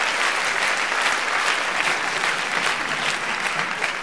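Audience applause at a stand-up comedy show fills the room: dense, steady clapping from a large crowd, loud and sustained with no speech over it.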